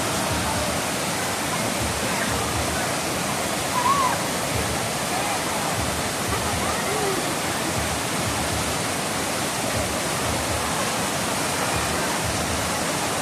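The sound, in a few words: Balagbag waterfall in Infanta, Quezon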